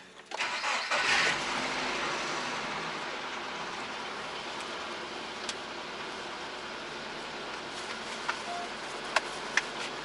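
Steady car engine noise from a drive out to a country dacha, a continuous broadband drone that holds level throughout, with a few faint clicks and ticks near the end and no talking.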